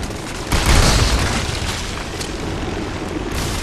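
A grenade launcher explosion in the video game Army of Two The Devil's Cartel: a loud, broad boom that swells and then rolls into a sustained noisy rumble.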